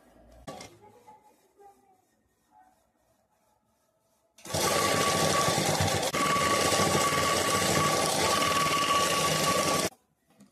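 An electric sewing machine stitches the side seam of a work blouse, running in one loud continuous whirring burst for several seconds after a quiet stretch with someone speaking faintly.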